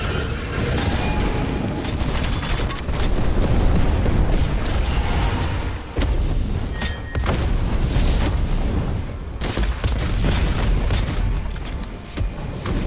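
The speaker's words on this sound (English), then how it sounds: "I knew he was going to get us with the flashbang" Flashbang going off in the video game Witchfire, a loud, booming burst that blends into a sustained roar of rumbling, crackling combat noise running the whole stretch.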